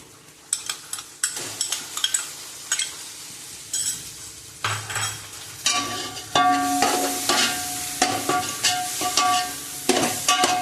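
Ginger garlic paste fries in a pan for mutton biryani, with soft sizzling under repeated scraping and clinking of a metal spoon against the pot, stirring in irregular bursts that grow busier toward the end.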